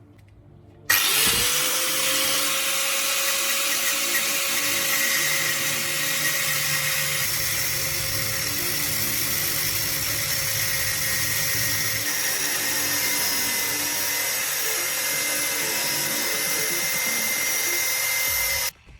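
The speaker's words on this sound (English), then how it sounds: "Use a cutting tool to remove the middle tab cleanly." Power cutting tool cutting the middle tab from a metal door hinge clamped in a vise, starting abruptly with a loud sustained high-pitched whine and grinding buzz, steady for many seconds before cutting off.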